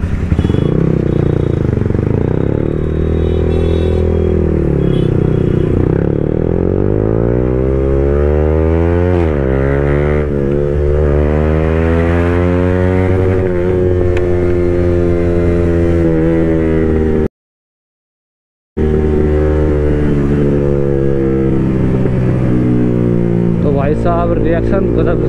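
A loud Yamaha R15M motorcycle revs and rumbles close by with a steady, heavy engine roar that rises and falls in pitch, broken by one brief silent gap.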